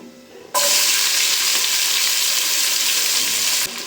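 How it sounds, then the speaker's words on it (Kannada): Chopped onions drop into hot oil already fried with cinnamon, cloves, stone flower and cardamom for chicken dum biryani, bursting into a loud, steady, close sizzle that holds for about three seconds before easing off. "ಈರುಳ್ಳಿ ಚೆನ್ನಾಗಿ ಫ್ರೈ ಆಗಬೇಕು"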